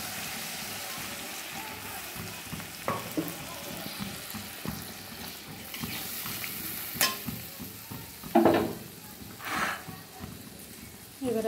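A splash of water hits hot oil and separated spice paste for a koi fish curry, a steady sizzle that flares into louder crackling bursts partway through, with stirring sounds close by.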